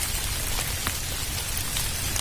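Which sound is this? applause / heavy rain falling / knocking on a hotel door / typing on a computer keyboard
heavy rain falling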